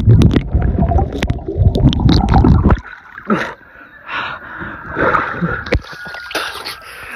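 Someone plunges into cool outdoor water on a hot day, with a loud burst of splashing and churning for the first few seconds, then quieter bubbling, dripping and rustling water movements close by.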